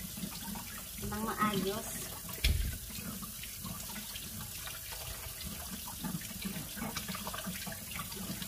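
Tap water running over bell peppers as they are rinsed in a kitchen sink, a steady splashing wash under a person speaking, with a brief louder thump partway through.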